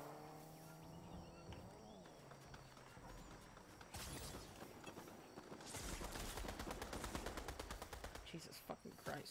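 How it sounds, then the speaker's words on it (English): Gunfire from people shooting outdoors about 100 meters away, a rapid series of sharp cracks growing denser and louder toward the end, heard over outdoor ambience with voices talking nearby. "Oh, I thought you were shooting."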